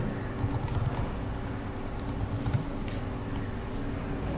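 Light clicking of computer keyboard keys in irregular bursts as an email address is typed, fairly faint over a steady low hum, with no talking.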